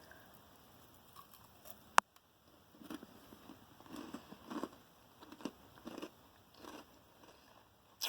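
Crunchy cookie butter cereal treat being bitten once with a sharp snap, followed by quiet, irregular chewing and munching close up.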